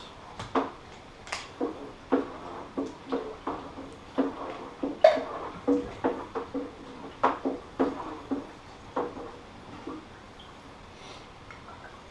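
Stirring apple cider for hard cider, giving a series of irregular light knocks and clinks, moderately close and fairly quiet, with no talking.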